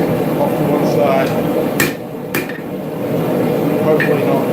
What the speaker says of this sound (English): rounding hammer, just going to tap up that ring